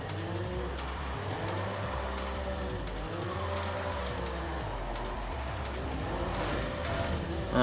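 A car drifting in Forza Horizon 5, its engine droning steadily with rising and falling tire squeal through a long slide, loud and continuous.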